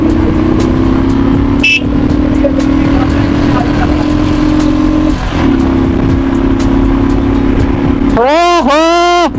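A legendary motorcycle idles with a steady engine drone for about eight seconds and then revs sharply twice near the end, with rising and falling whines. Excited voices chatter over it.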